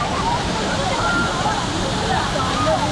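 Rushing water from a waterfall at Valparai churns and splashes in a constant roar close by, while people talk over it.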